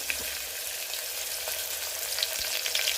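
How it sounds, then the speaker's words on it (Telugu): Green chilies, coriander seeds, cumin and garlic frying in oil for an old-style ridge gourd chutney, giving a steady close sizzle with faint crackles and occasional stirring clicks, no voices. "అందులోకి కొంచెం ఆయిల్ యాడ్ చేసి పచ్చిమిర్చి, ధనియాలు, జీలకర్ర, ఎల్లిపాయలు."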